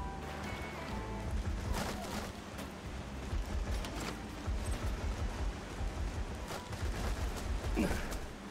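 Shotguns fire in the video game Borderlands 2, with several sharp, booming blasts at irregular intervals over a continuous crackling, rain-like background of combat noise.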